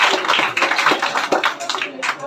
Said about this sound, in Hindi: सुषमा के लिए जोरदार ताली बनती है